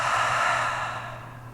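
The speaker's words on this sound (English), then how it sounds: "inhaling through the nose, exhaling through the mouth" A long, deep breath exhaled through the mouth at the close of a yoga class, a steady breathy whoosh that slowly fades, close and alone with a faint low hum beneath.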